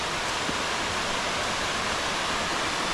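The waterfall at Freedom Falls in Venango County, Pennsylvania gives a steady, broad rushing roar of falling water, loud and unchanging, with no voices over it.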